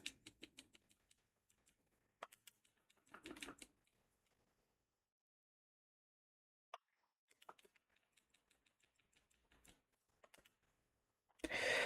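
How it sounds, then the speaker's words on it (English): Calculator buttons are pressed in quick bursts of small, close plastic clicks and taps separated by silent pauses, ending in a louder rustle. "I just need to type this in my calculator"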